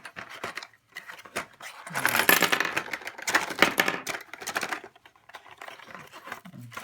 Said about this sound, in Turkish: Kameranın kutusunu açalım.